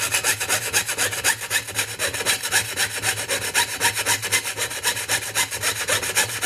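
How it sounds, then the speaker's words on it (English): A hand saw cuts through a wooden spatula blank in quick, even back-and-forth strokes, each rasping pass clearly audible and close, with a steady rhythm throughout. "while I'm sawing, and it's only my hand that's moving up and down"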